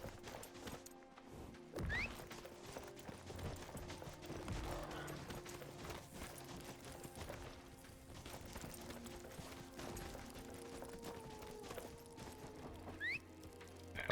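Horse hooves clip-clopping in the video game Skyrim, a busy game soundscape with a steady stream of hoof clatter, occasional sharp knocks and brief whinny-like cries mixed with ambient effects.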